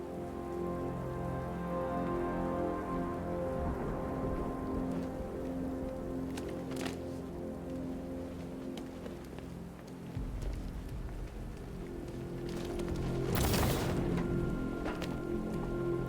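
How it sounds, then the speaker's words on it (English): Heavy rain pours steadily onto a surface, a dense continuous hiss with scattered louder splashes and a brief swell near the end, with no voices. "What's with all the rain?"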